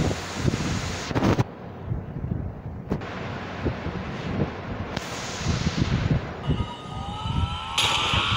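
Gunfire in the Free Fire mobile game: sharp repeated shots and bursts, fairly loud, with abrupt cuts between segments and some rumbling game effects, no talk.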